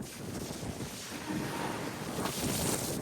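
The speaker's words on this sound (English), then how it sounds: "It's super windy." Strong wind roars steadily across the microphone on a cruise ship deck, a broad continuous rush with faint splashing sea water beneath, no speech.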